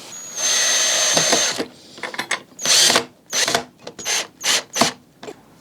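Power drill boring pilot holes through metal brackets into wooden dining chair frames, several short whirring bursts of rising and falling intensity with brief pauses between them, loud and close.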